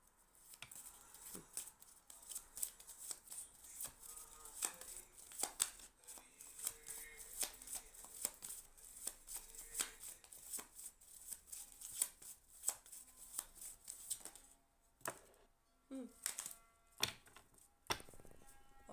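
Tarot cards shuffled by hand in a quiet room, a steady run of soft riffling and slapping sounds, close and fairly faint, with no talking.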